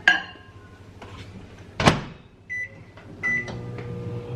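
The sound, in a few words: microwave oven running to warm milk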